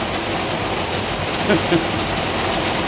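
Rain with hail falls in cool weather, a dense, steady hiss close by, with a brief voice faintly present under the downpour.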